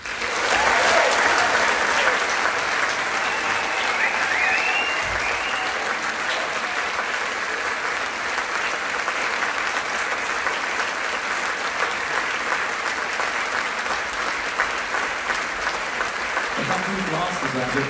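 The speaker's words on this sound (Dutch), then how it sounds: "Ik zou graag toch nog eens een applaus willen voor deze lieve mensen allemaal." Sustained applause from a concert audience at a live performance with the Noord Nederlands Orkest in Den Haag, a dense steady clatter of many hands filling the hall, with a few voices faintly underneath.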